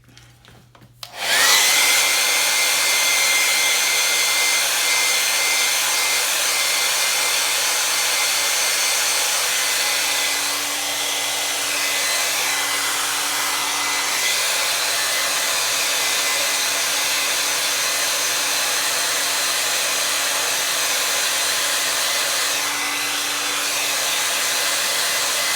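A hair dryer switches on after a second of quiet and runs continuously, loud and close, drying wet paint on a line-and-wash painting, a steady airy roar that keeps going to the end.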